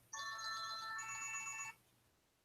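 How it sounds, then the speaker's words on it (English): A fancy phone ringtone plays a bright, steady melodic tone pattern for about a second and a half, fairly loud and close, then cuts off, leaving quiet room background. "Even your ringtone is fancy."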